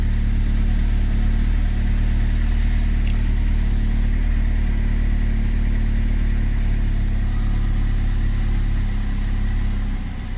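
A Ford Focus engine idles steadily after starting, a low continuous hum that stays level and close throughout, with no talk over it.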